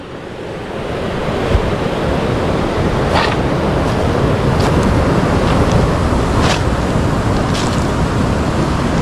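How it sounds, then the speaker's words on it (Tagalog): Powerful ocean surf crashes in a steady, loud roar at Blackhead Beach in New South Wales, Australia, with gusts of wind buffeting the microphone throughout. "Lakas ng alon."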